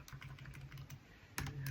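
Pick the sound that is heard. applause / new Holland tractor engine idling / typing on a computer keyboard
typing on a computer keyboard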